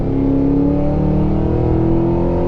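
Cadillac Escalade V pulling hard up a highway on-ramp, a loud, close engine note that climbs steadily in pitch under acceleration, heard from inside with no talking.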